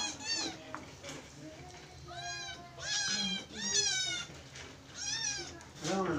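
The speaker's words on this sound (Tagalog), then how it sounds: "Si Rica magpapakain ng pusa." Several cat meows sound close by in bursts, some drawn out and wavering, with quiet gaps and faint background voices between them.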